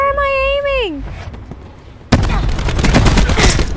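Video game gunfire from a gun fitted with an operator mod: a rising tonal whine first, then a sudden loud burst of rapid automatic shots that continues to the end.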